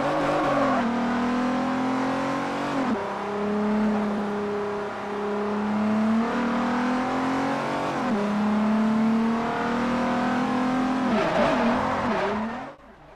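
A 1998 Nissan R390 race car engine in a racing video game drones and revs in repeated rising and falling cycles, loud and close, before cutting off abruptly at the end.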